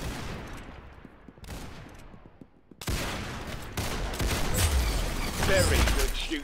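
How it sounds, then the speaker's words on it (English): Rapid gunfire from the Roblox Arsenal shooting game, with bursts of shots first sparse and then building into a dense, continuous fusillade that runs loud to the end. "Very good shooting."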